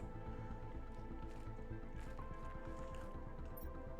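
A player character in Planet Crafter drinks water, producing soft squishy liquid gulps and drips over a quiet droning ambient background.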